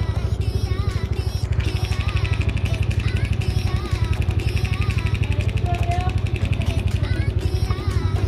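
A Suzuki Smash 115 motorcycle with a 57 mm piston and freshly retimed cam idles close up, a steady rapid single-cylinder beat with a mechanical ticking rattle. A voice talks faintly underneath.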